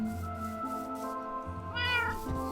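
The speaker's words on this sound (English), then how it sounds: "Meow." A Minecraft cat gives a few clear, close meows in a row, bright tonal calls rising and falling over a steady in-game music backdrop, with no one talking.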